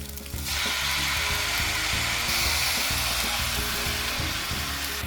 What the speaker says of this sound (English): So now I'm gonna go in back in with the shrimp